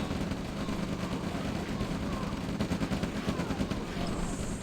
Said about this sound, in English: This artillery should do good work.